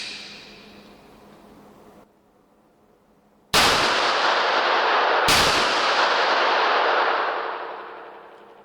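A Rock Island Armory XT 22 Magnum firing outdoors with two sharp, loud reports in quick succession, each followed by a long ringing decay after a brief quiet gap.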